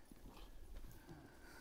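Horse hooves clip-clop at a steady walking pace on a mountain ride in the Sierra Nevada near Bubión, fairly faint, over a low outdoor rumble with no talking.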